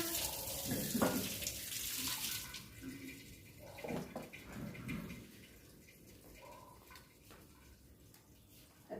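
Water pours and splashes faintly in a few intermittent bursts as cloths are washed by hand in a home kitchen setting.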